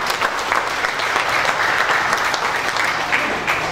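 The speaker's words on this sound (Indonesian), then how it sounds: "Tepuk tangan buat Punggowo." Applause from a crowd at a declaration and inauguration ceremony for a community organisation in Indonesia: steady, loud clapping that fills the moment without a break, with no one speaking over it.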